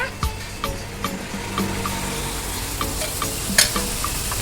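Torn parotta pieces and kurma are stirred in a hot pan, giving a steady sizzle broken by repeated scraping and tapping of a spatula against the metal.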